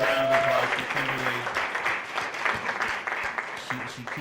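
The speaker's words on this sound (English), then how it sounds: "Let's give a big round of applause for" An audience at a writers festival applauds in a steady, dense wash of clapping, with a voice speaking over the start and end.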